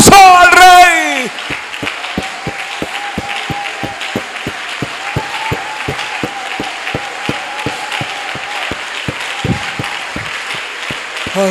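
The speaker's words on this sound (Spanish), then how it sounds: "darle un aplauso bien fuerte. 30 segundos de aplauso al rey." A church congregation claps loudly and steadily for about thirty seconds of praise, a dense sustained wave of applause following a brief opening cry of voices, with an organ-like tone holding underneath.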